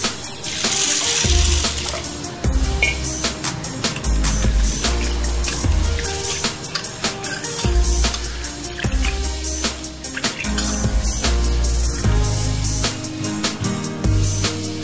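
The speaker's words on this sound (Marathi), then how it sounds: "ती मी आता 1-2 पाण्याने छान स्वच्छ धुवून घेणार आहे" Chana dal being rinsed in water by hand: rhythmic sloshing and swishing with gritty clatter of the lentils against the bowl, repeating in close bursts throughout.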